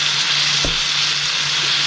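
A one-pound hamburger patty sizzles in olive oil in a skillet, a steady, dense frying hiss that stays loud and close throughout with a brief low bump partway through.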